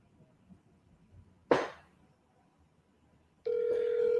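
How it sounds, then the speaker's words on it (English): A phone call is placed, with a sharp click followed by a steady, loud ringing tone starting near the end, alone without talk. "I'll ring her up on the phone"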